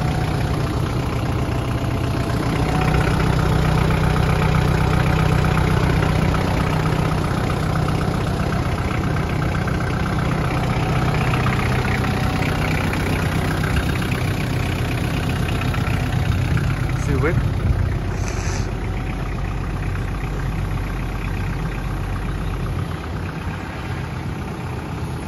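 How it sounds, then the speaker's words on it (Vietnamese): A 551C Turbo motorbike engine idles steadily close by, a smooth, even hum that holds for the whole stretch while someone talks over it. "Máy nổ là thì thầm như xe hơi luôn."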